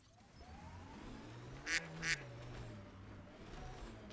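Two short duck quacks played as a sound effect during a live game stream, spaced about a third of a second apart over a low background hum.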